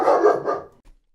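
A single loud, close dog bark at the mailman, followed by a brief soft sound and then quiet.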